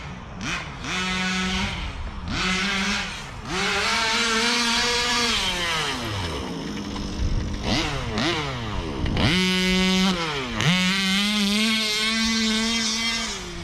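The gas engine of a Baja 5b RC car buzzes loudly nearby, revving up and down in repeated surges with a raspy, chainsaw-like whine that rises and falls in pitch.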